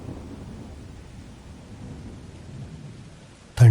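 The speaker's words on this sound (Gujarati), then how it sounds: "ઇન્દ્રદેવ પણ ખૂબ ગરજ્યા અને ધૂમધામ અને વીજળીના ચમકારા સાથે બારે મેઘ વરસવા લાગ્યા." Rain falls in a steady, dense wash with low rumbling thunder beneath it, ending in a sudden loud crack near the close, with no voices.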